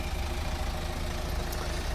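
A 2012 Kia Sportage R TLX idles steadily close by, a continuous low engine rumble with even level and no voices.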